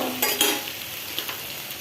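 Vegetable bhaji stirring and sizzling in a pan, with a couple of sharp scrapes of a utensil early on followed by a steady soft frying hiss and light clinks, close and without talk.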